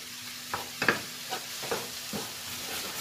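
A spoon stirs thick cabbage soup with grated potato in an iCook pot, making a few soft scraping strokes over a gentle steady simmering hiss.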